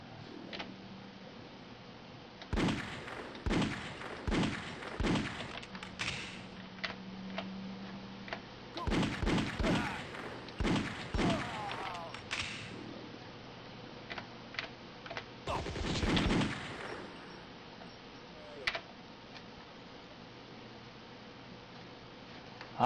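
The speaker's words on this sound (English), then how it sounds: "Someone's shooting at me." Gunfire in the video game Malice, heard as sparse bursts of rapid, clicky shots spread across the stretch, with gaps of low background between volleys.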